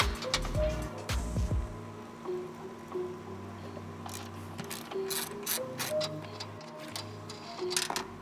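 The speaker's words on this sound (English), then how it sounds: "you'll have three 14mm nuts. These are the last things holding the strut in" Ratchet loosening 14mm strut nuts on a 2022 Subaru WRX during a front shock removal, giving quick repeated clicking bursts up close over a steady low workshop hum.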